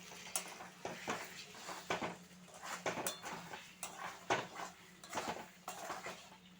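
A lid comes off a pot of cooking chicken, with a series of sharp metallic clinks and clatters of cookware at close range in an otherwise quiet kitchen.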